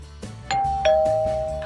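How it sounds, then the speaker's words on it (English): Doorbell chiming in a home kitchen: two clear, loud tones in quick succession, the second ringing out and decaying, with no talking. "Oh, there's the doorbell."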